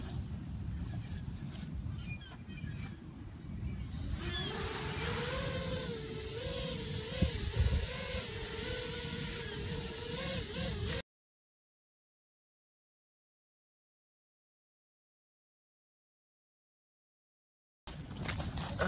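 A quadcopter drone running Betaflight 3.1.7 with stock PIDs hovers, a steady whirring motor drone with rising and wavering pitch under wind noise, cutting to silence partway through before returning briefly.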